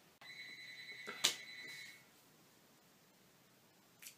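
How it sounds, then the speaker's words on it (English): A telephone rings once in a quiet room, a short bright electronic trill that fades out, followed by a faint click near the end. "Phone ringing, really?"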